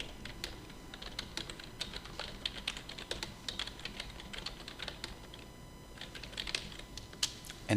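Fingers tapping out a title on a computer keyboard, quick, light clicking keystrokes in irregular bursts, close and clear over a faint background hum.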